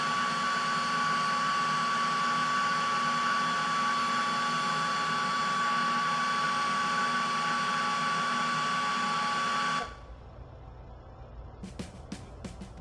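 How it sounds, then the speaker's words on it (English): A simple hair dryer on its low setting blows steadily to dry paint on a scale model M113A1 armored vehicle, a loud constant whirring hum that cuts off abruptly near the end, leaving quiet room sounds and a few faint clicks. "a hair dryer, just a simple hair dryer on low setting"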